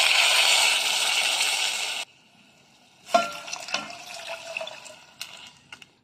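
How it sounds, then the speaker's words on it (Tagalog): Water pours in a steady broad rush for about two seconds into a cooking pot holding onions and tomatoes for humba, then stops; softer stirring clatter and sizzle-like bubbling follow, with no talk. "Ngayon po, lalagyan na natin siya ng tubig."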